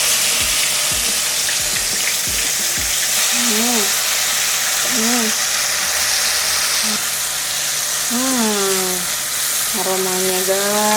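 Cooking oil sizzles and crackles steadily in a pan while squid ink dishes are prepared with galangal, kaffir lime and bay leaves nearby, a continuous frying hiss with a few brief clicks and short tonal chirps over it.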